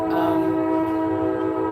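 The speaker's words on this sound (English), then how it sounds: "Sorry about the train." A passing train sounds a steady, loud horn that holds throughout, with low rumble of the rail cars beneath it.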